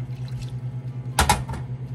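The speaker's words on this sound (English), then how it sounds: "All right, so we're gonna put in 1 cup of water." Water pouring into a cooking pot on a home stove, a short splashing burst of about half a second standing out over a steady low kitchen hum.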